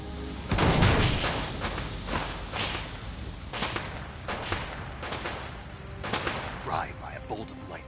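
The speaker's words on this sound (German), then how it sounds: "Da geht die Munition los." Ammunition cooking off in Metal Gear Solid 3: a rapid, irregular string of sharp cracking bangs and thuds, loud and close, with a dense burst early on followed by scattered pops.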